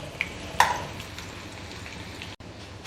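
Onions frying in a generous amount of oil in a pan for bitter gourd fry, a soft continuous sizzle with a couple of sharp metallic clinks near the start.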